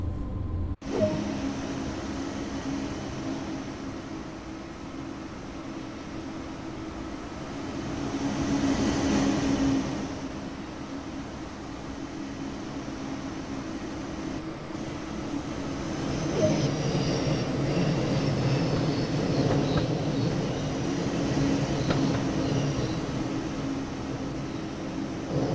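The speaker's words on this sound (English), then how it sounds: "Let's take a look now while this train is in motion." Train in motion in Train Sim World 2 on the Munich–Augsburg main line, with a steady rumble and rolling hum that swells and fades over a long run, heard alone.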